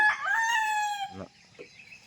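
A rooster crows once nearby, a loud drawn-out call that trails off, followed by a couple of short clucks.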